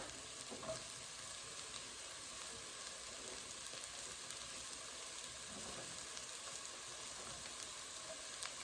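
Jalapeno and black pepper cooking down in a pan for shrimp creole, a soft, steady sizzle with occasional light stirring, faint and close with no talking.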